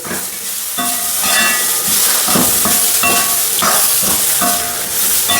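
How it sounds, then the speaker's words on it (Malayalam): Chopped tomatoes tipped into a hot pan for sambar hiss and sizzle loudly and close by, with stirring scrapes and clanks of metal against the pan over a continuous frying hiss. "അതിൻ്റെ അകത്തോട്ട് ഈ അരിഞ്ഞ് വെച്ചിരിക്കുന്ന തക്കാളി തക്കാളിനെ അതിൻ്റെ അകത്തോട്ട് ചേർത്ത്"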